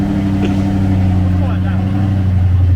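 A Seat Leon Cupra R engine, remapped to stage 2, revs loudly and steadily close by around 5,000 RPM, its droning hum rising slightly in pitch, with a brief voice audible partway through.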